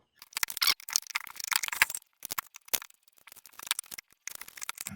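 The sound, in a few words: large screwdriver unscrewing nuts on a solar charge controller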